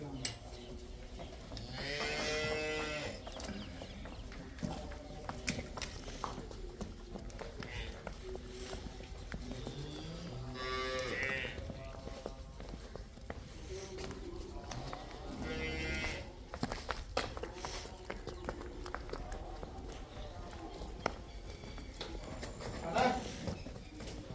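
Cows and calves, including Jersey crosses, mooing on a Punjab dairy farm that also keeps buffalo. Several loud moos sound at intervals from nearby, with some shuffling and livestock movement and people talking throughout.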